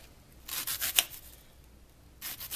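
A knife slices a red onion thinly on a cutting board, giving a quick run of soft, close crisp cuts, a brief pause, then another short burst.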